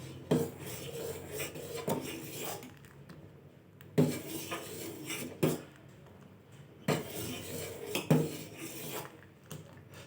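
A spoon scrapes and knocks around a pot of milk and sugar cooking for a milk custard drink. The close, rhythmic strokes repeat every second or two, with no talking.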